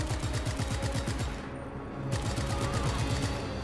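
Heavy machine gun fire in the action game Just Cause 3: fast, evenly spaced bursts that stay close and loud, with a brief pause near the middle before the rapid fire resumes.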